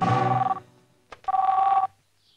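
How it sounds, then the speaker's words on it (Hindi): An old-style telephone bell rings twice, two loud buzzing bursts separated by a short pause, with a faint click between them, heard alone in a quiet scene. "अच्छा पहले फोन उठा"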